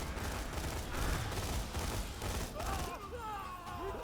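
Hip-fired gun bursts in Borderlands 2, a dense continuous rattle of shots mixed with game effects, with a rising whine near the end; no voice over it.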